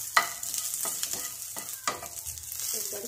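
Gram flour (besan) and mansur dal are roasted in a pan, giving a soft, steady sizzle broken by several scraping stirs from a spoon, close and fairly quiet, with no talking.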